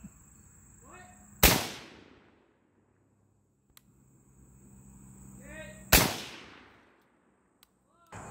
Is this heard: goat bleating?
no